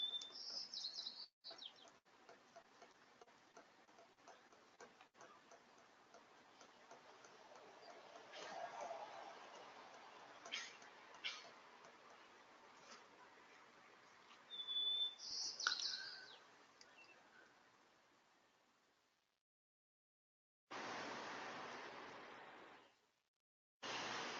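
Faint bird chirps and tweets from outdoors, scattered and distant, over a steady background hiss with a few brief louder bursts.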